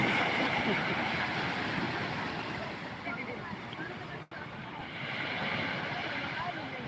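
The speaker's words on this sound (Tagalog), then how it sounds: "Grabe, lalaki ng alon, no?" Ocean waves surge and wash in a broad, steady roar, with wind buffeting the microphone throughout.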